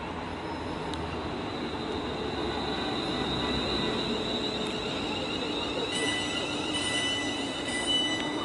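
Two Class 350 electric multiple-unit trains pull into Dudley Port station together, a steady rumble of rolling wheels and rail noise with faint high squeals, continuous and fairly close throughout.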